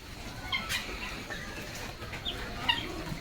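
Chickens clucking in a farmyard during heavy rain, with several soft, scattered clucks and calls at close-to-middle distance over a steady wet background wash.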